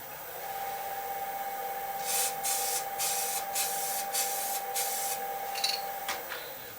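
GluBoost Lac R' Shot flash-coat finish is sprayed onto a turned wood pen on a lathe in short hissing bursts over a steady motor hum, close and fairly loud.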